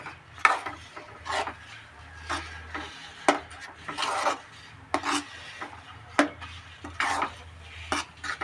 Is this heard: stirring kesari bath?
yes